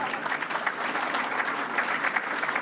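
Audience applause fills a fans' forum for a cricket club, a steady dense clapping from a sizeable crowd that runs evenly throughout without talk.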